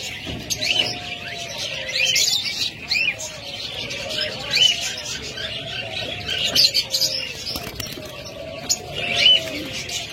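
Pet budgerigars, cockatiels and lovebirds chirp and tweet busily together, a dense, continuous flurry of high calls with occasional louder peaks and a low murmur beneath.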